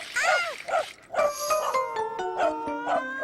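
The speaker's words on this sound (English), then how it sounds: "Caillou was a little scared by the dog" A cartoon dog barks and yips several times in quick bursts, loud and close, followed by a rising whimper-like tone and more short barks over a busy animated soundtrack.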